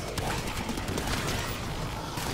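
Continuous rapid turret fire in the game Exo-Zombies, a dense unbroken stream of shots that stays loud and steady throughout.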